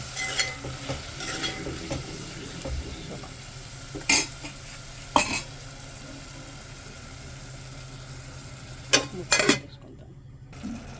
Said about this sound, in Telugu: కూరగాయలు అయితే మంచిగా మగ్గుతున్నాయి.